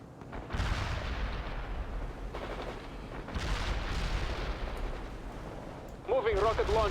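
Rapid gunfire and cracking shots from a sniper firing at fortifications in World in Conflict: Soviet Assault, several bursts over a continuous battlefield din, with a warbling tone entering near the end.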